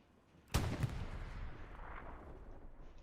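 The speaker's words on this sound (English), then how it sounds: "More shots coming in?" A single sharp gunshot in the World War II shooter Hell Let Loose, loud and sudden, followed by a long rumbling echo that fades over a few seconds.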